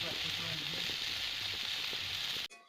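Fish pieces coated with salt and turmeric fry in hot oil, giving a steady, loud, close sizzle that runs unbroken and then cuts off abruptly near the end.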